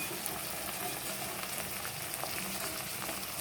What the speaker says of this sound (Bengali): এগুলো কিন্তু সব হালকা হাতে ভাজবে না হলে কিন্তু হবে না